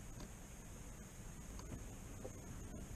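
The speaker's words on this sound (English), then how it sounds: "Lay down, wind." Wind gusts across Lake Sam Rayburn from a fishing boat, a steady broadband roar and rumble buffeting the microphone, loud and continuous for the full stretch.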